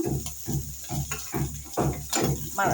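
Pre-fried rohu fish heads sizzle in hot oil in a frying pan, a steady close crackle with soft rhythmic stirring or scraping thuds repeating throughout.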